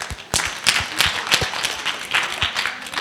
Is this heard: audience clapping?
yes